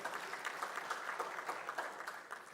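An audience claps at the launch ceremony of Indonesia City Expo 2023 in Makassar, giving steady, fairly faint applause throughout.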